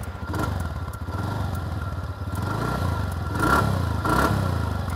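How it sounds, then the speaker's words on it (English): A 2018 TVS NTorq 125 scooter with a stubby sporty muffler gives a close, grunty, throbbing exhaust note that rises and falls with small blips of throttle, with a clattery texture and no talk over it. "You have a sporty and stubby muffler, and that actually has a really grunty exhaust note."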